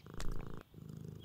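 A cat purrs in the Deponia video game, a low rumbling purr with a brief higher accent early on, close and alone, pausing briefly before continuing.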